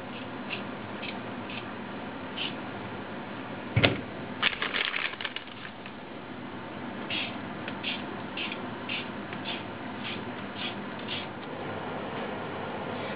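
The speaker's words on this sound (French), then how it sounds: "Pendant que les pommes de terre sont en train d'être épluchées donc par Steve" Potatoes are peeled by hand for a tartiflette, giving soft, rhythmic scraping strokes at close range. A brief clatter sounds partway through, then the steady peeling strokes resume.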